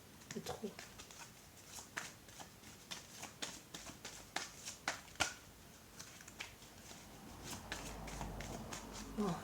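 Cards from a tarot-style deck are shuffled and one is drawn, giving a quick run of crisp flicks, riffles and snaps that stay close and fairly quiet throughout, with a faint low rumble creeping in toward the end.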